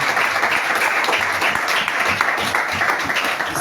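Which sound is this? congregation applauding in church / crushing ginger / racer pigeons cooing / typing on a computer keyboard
congregation applauding in church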